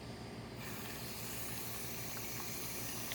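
Water rushes from a freshly opened Flush King nozzle, a steady broadband hiss that swells in after a brief quieter moment and then holds constant, soft and unaccompanied by speech.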